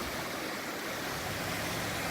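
Floodwater of Indian Creek rushes past submerged trees near a road, a loud continuous roar of running water with no voices.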